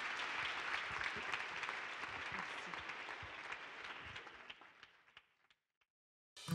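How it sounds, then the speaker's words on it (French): Applause from an audience at a French assembly event, a full burst of clapping that gradually thins and fades out to silence, followed by a brief new sound at the very end. "Merci à Corinne Hirsch, merci de l'applaudir"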